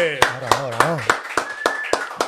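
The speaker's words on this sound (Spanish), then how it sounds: "Démosle con un fuerte aplauso la gran bienvenida" Steady rhythmic clapping, about a dozen sharp claps in an even beat, heard alongside a voice speaking.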